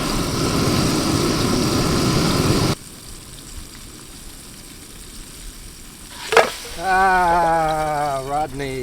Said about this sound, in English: My stove, an MSR pocket rocket too, it's kind of noisy.